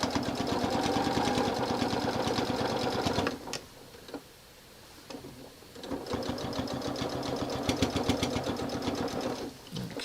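A sewing machine runs at speed stitching fabric strips, its rapid needle clatter steady, pausing for about two seconds, then resuming with a few small clicks and handling noises.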